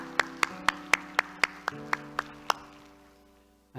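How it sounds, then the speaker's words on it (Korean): In a church service, about ten sharp, evenly spaced claps ring out close and clear over a faint sustained tone, then fade to quiet. "우리 하나님께 영광의 박수 합시다."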